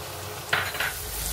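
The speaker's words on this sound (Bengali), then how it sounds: "এবারে বাটা পেঁয়াজটাও দিয়ে দেবো।" Onion paste added to a hot frying pan of browned onions, two quick scraping stirs rising over a low steady sizzle, close and fairly quiet.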